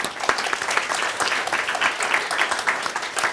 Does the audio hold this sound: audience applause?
yes